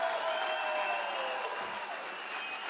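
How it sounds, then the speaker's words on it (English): Sustained audience applause at a company recruiting event, a steady wash of many hands clapping that holds evenly for nearly three seconds and eases slightly toward the end, with no voices standing out. "Let's give her a big Experior clap"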